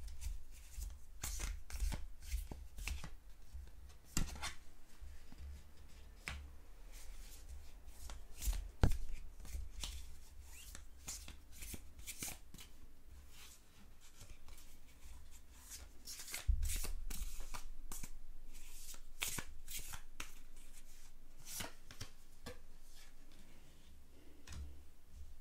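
Tarot cards are shuffled and pulled by hand in a quiet room, giving dense runs of soft riffling clicks and flicks that come in bursts with short pauses, fairly faint and close, without speech.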